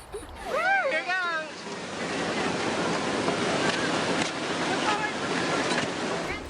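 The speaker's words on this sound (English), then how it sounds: "You hear the sound of the falls." A Class 4 waterfall roars with a dense, continuous rush of falling water. A few brief whistle-like chirps come first, then the steady roar fills the rest.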